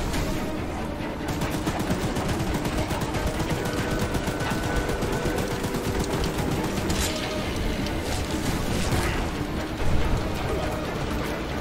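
Dense, continuous rapid gunfire from the video game Choo Choo Charles, a sustained barrage of shots with a voice speaking over parts of it.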